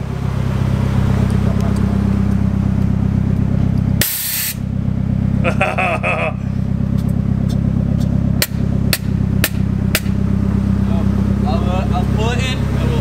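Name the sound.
loud Nissan S14 street build engine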